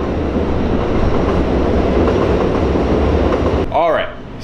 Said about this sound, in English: Hold on, that's the train